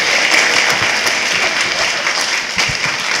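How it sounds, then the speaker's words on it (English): Loud, dense audience applause fills a school STEM showcase, continuous clapping from a sizable crowd with no speech over it. "Applause."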